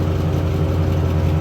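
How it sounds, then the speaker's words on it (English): Lexus LS400 engine idling with an exhaust leak, close and steady, a continuous low rumble with a faint whir above it and no talk. "you can hear, it definitely sounds like it's got an exhaust leak"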